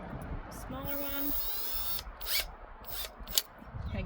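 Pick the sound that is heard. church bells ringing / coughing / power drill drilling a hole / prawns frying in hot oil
power drill drilling a hole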